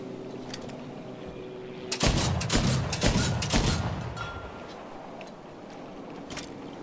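Two anti-aircraft guns fire in a Pacific conquest match of the Battlefield V video game: a loud cluster of rapid booming shots for about two seconds, fading into low rumbling battle ambience with a few lighter distant pops.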